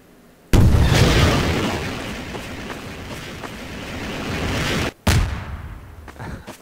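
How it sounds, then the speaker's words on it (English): Guided missile explosion in Garry's Mod: a sudden loud blast with a sustained roaring rumble for about four seconds, cut off abruptly, then a second burst that decays into a fading tail. "Oh, I like how it's a guided missile"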